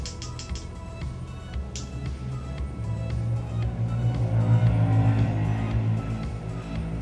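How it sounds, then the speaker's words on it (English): Steady traffic noise outside, with motorcycle and car engines rumbling and rising as they pass by, continuous and fairly loud throughout. "Sorry if you can hear all these motorcycles and cars."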